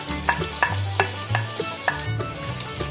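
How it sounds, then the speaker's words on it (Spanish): Leftovers tipped into a pan of chicken and rice fry with a constant loud sizzle, punctuated by regular stirring scrapes and clinks close by, without speech. "Ahora voy a echar esto que me sobró de anoche"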